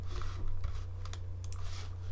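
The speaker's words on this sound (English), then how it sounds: "We're gonna press M on the keyboard to bring up our mask and start tracking the path." Computer keyboard keys click in a few soft, scattered presses over a steady low electrical hum, close but faint, with no talk.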